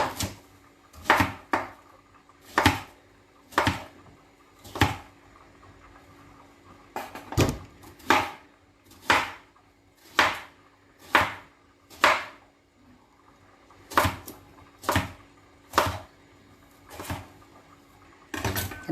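A knife chops vegetables into small pieces on a board, with sharp, distinct strokes coming in short bursts of two or three followed by pauses, close and clear against a quiet room.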